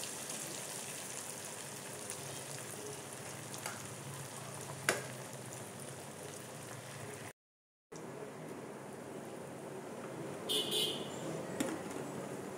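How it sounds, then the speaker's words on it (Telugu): Coated paneer pieces frying in hot oil give a soft, steady sizzle, close and even, with a brief gap and a few faint clinks near the end. "ఇవి ఆల్రెడీ కోట్ చేసేసిన పన్నీర్ని ఆయిల్ వేడాక ఇందులో వేసుకోవాలి."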